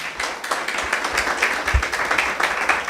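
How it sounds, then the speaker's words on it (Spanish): A church congregation claps in a dense, fairly loud burst of applause, uneven and continuous for a few seconds with no talk over it. "Denle un aplauso al Señor."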